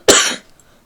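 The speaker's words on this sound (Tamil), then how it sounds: "இருமல்." A single short, sharp cough, close and fairly loud, fading quickly into near silence.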